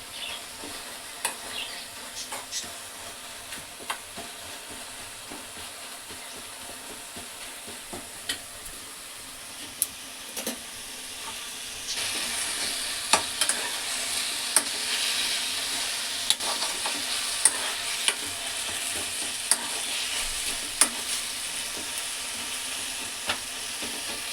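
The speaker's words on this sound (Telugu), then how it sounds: "ఇది కూడా మీడియం సైజులో పెట్టుకొని వేయించుకోండి, హై వద్దండి" Red gongura (sorrel) leaves frying in a pan over medium heat, giving a steady close hiss with frequent spatula clicks and scrapes; the sizzle grows louder about halfway through and keeps going with sharp taps.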